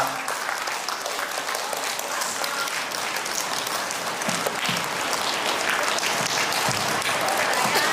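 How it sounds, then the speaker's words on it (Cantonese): Audience applauding at the end of a Cantonese stage performance by the full cast, sustained dense clapping filling the room for several seconds, loud and even throughout. "再俾掌聲好冇？"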